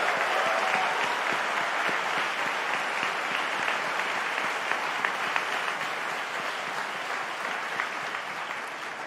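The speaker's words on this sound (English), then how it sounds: "Can I have a round of applause for our amazing order from the Fountain School of Performing Arts, Wesley Giffen." A graduation ceremony audience for the Faculties of Engineering and Graduate Studies gives sustained, dense applause that stays loud and steady and eases off slightly toward the end.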